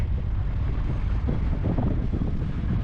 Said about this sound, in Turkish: Bu arada rüzgar da geldi.